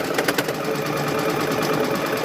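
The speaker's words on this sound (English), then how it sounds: "So what you do is you stitch that first one." Sewing machine stitching fabric quilt squares, a steady, close, continuous mechanical whir with fast rhythmic needle clatter throughout, no talk.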